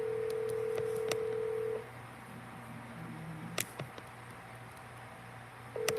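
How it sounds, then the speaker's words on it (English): Telephone dialing tones: a long steady tone gives way to a series of short beeps at uneven intervals, with quiet stretches between them and no speech. "Sonny, I'm gonna keep blowing up your phone until you pick up"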